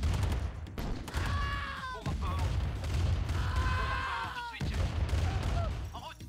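Gunfire from machine gunners and bazookas rattles and thumps in the Command & Conquer Remastered video game, bursts of shots and impacts mixed with game effects and someone talking over them.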